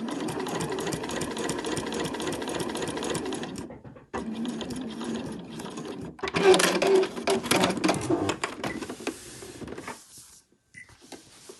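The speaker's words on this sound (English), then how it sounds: "So I'm sewing from one corner to the other corner" Domestic sewing machine stitching a straight line corner to corner through quilt binding on a sewing machine cover, a fast even mechanical whirr that stops, restarts, then trails off into quiet, with a person talking faintly between runs.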